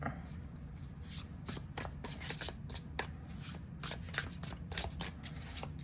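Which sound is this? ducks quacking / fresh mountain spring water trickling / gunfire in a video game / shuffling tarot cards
shuffling tarot cards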